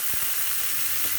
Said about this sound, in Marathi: तडक्यासाठी तेल तापून घेतलं आहे, त्यामध्ये मोहरी घालूया, हिंग, जिरे